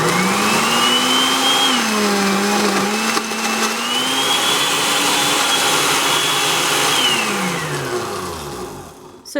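Blender running on a green smoothie, a loud sustained motor whine that rises and dips in pitch as the blades work through the thick mix, then winds down at the end.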